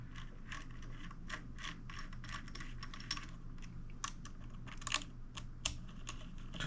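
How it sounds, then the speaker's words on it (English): Small screwdriver turning Torx screws by hand, a run of quiet ticking and ratcheting clicks, irregular and close, faint against a low hum. "Now these looks like they are a Torx bit, which you use this little screwdriver which you get in the pack."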